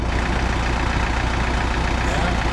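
A tractor stuck on a farm in winter runs its engine with a steady, loud, low idling drone that continues without a break, while people talk over it.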